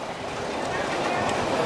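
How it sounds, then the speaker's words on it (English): An amusement park family train ride rolls along its track, a steady low rumble with faint clacks, heard close while people talk over it. "Very unusual train."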